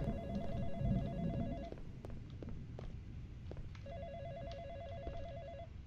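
Telephone ringing in the horror game Sadako Project: a quiet electronic warbling ring in two bursts with a pause between, faint footsteps and thuds around it, no talking.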